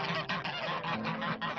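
A flock of geese honks close by in a string of loud, nasal calls that overlap in quick bursts with short gaps between them.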